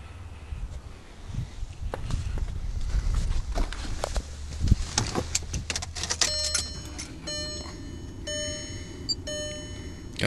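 A 2004 Volkswagen Jetta TDI diesel in about 30-degree cold, with scattered clunks and handling noises before the engine catches and settles into a steady idle with a tonal whine, close by.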